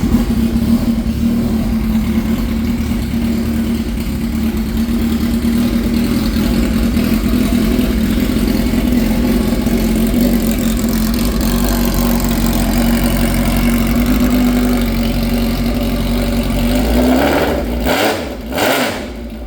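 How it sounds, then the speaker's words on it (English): A Suzuki Hayabusa drag bike idles loud and steady at close range with a deep, even drone, then blips its throttle in a couple of sharp revs near the end. "They're all going to be about the same sound, but they will all, there's the fuel pump that comes on, they will all just start right up."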